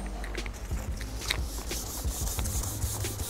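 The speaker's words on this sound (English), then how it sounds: "As you can see, we've got them sanded down." Sandpaper scuffs a painted motorcycle part to rough it up before primer, with steady close rubbing strokes in an irregular rhythm and no voices.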